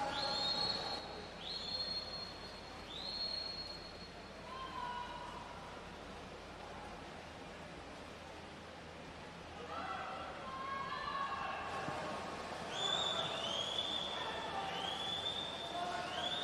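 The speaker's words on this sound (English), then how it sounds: "You can hear the crowd getting behind these guys." A crowd roars steadily at the 2024 New Zealand Short Course Swimming Championships as a race nears its finish, a distant, reverberant wash of noise with shrill whistle-like calls rising at the start and again near the end, and a voice faintly underneath.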